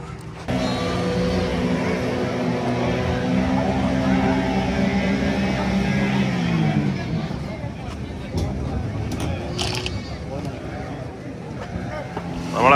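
A tourist boat's motor drones steadily on a mangrove forest boating trip in Pondicherry, a loud, continuous low hum that eases slightly partway through, with muffled voices and babble mixed in.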